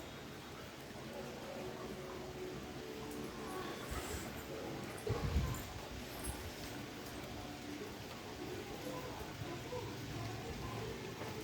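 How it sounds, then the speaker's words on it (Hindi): Heavy rain pours down in a steady, dense hiss that lasts throughout, with a brief louder splash or thump near the middle. "ये देखिए झमाझम बारिश हो रही है।"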